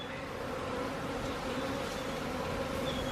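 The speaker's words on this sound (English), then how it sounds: "So they're the bees flying around." Thousands of honeybees in a backyard swarm make a dense, steady buzzing drone that fills the whole stretch, close and continuous with no talk.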